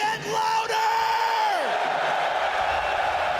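Arena crowd at the CS2 Major playoffs in Copenhagen, a loud sustained roar of yelling and cheering, with a single voice rising above it briefly.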